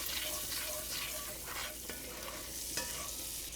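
Garlic and tomatoes fry in a skillet over turned-down heat, giving a dense, steady sizzle with faint stirring scrapes and no talking.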